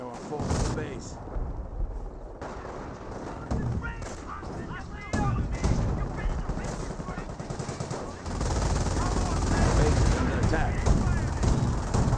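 Artillery fire from 25-pounder guns shelling a base bunker in the World War II strategy game Company of Heroes, heard as dense, continuous booms and gunfire with machine-gun bursts, loud throughout and rising near the end.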